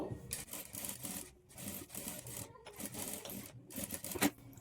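A domestic sewing machine top-stitches beside the piping on a lined boat neck blouse, running in steady bursts with short pauses between runs, close and moderately loud, with no one talking.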